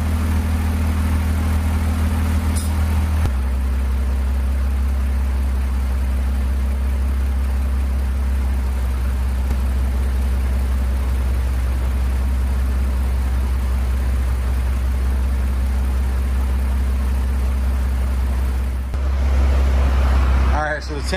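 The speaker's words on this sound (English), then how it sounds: "Alright, we got the car running right now." Toyota MR2 SW20 engine idling steadily and loudly up close during cooling system work, a constant low rumble with a shift in tone early on and near the end.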